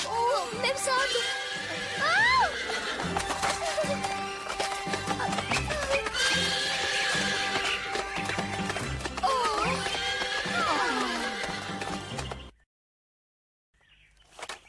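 Cartoon horse from a Cinderella story whinnying repeatedly over a music score, with hoof clip-clops and voices talking, cutting off abruptly near the end.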